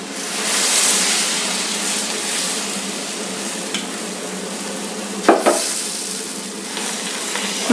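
Dosa batter frying in oil on a hot pan gives a steady, close sizzle throughout, broken by a few brief scraping clinks of a utensil near the end.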